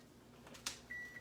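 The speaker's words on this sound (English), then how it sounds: "Chicken in the microwave." A kitchen microwave oven gives a short electronic beep while a whole chicken cooks inside, the tone brief, steady and fairly close, following a faint clunk, with no talk over it.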